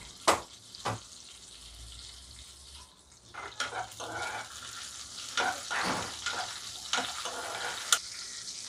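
Green chillies frying in a pan, a soft steady sizzle close by with intermittent clicks and scrapes of stirring on top.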